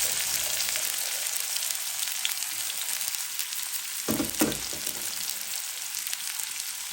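Chopped onion and garlic frying in hot oil for Bengali potato bhaji, a loud continuous sizzle throughout with a brief stirring scrape near the middle.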